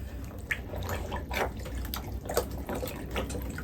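Wet felt fabric being pressed and worked by hand in water for millinery, giving soft squelching, sloshing and dripping sounds with irregular bursts, close and moderately loud, with no voice.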